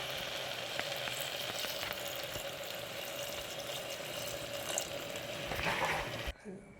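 Half a glass of water poured into potato gravy in a pressure cooker, a steady wash of sizzling and hissing liquid that holds for several seconds before cutting off abruptly.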